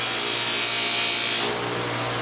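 A power tool smooths scratches on a knife edge, a loud, bright, steady grinding hiss that drops to a lower, softer whir partway through.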